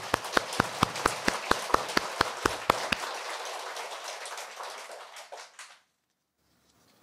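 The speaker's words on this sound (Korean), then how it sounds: "박수 한번 주세요" A temple audience at a Buddhist dharma talk breaks into applause, a sharp rain of many hands clapping close by that gradually softens and fades out into silence.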